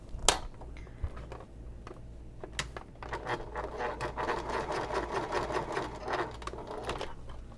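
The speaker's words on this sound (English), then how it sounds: "I'm going to sew" A sewing machine stitching a messenger bag near a ring: a sharp tap, then bursts of fast, rhythmic mechanical chatter that build into a steady run of stitching close up, with no talking.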